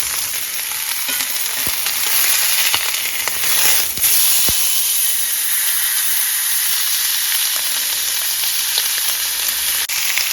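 Ribeye steak searing in a cast iron skillet, a loud, steady frying sizzle with crackling spatters that runs unbroken, close and without talk.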